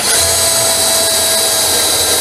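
A power drill drives screws into a plywood-backed sewing cabinet, a loud, steady high-pitched motor whine held close throughout the short stretch.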